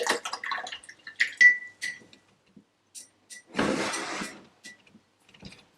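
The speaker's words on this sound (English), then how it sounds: "I want to just wash my brush" A paintbrush for acrylic paint is rinsed in a water pot, heard as a short splashy swish in the middle set among small scattered taps and clicks, mostly close and quiet.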